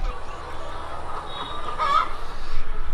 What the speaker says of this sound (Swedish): Det som låter här också är ett hönshus som ligger här bredvid